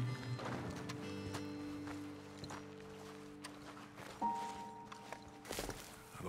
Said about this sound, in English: let's dismount here. Best leave the horses back a bit.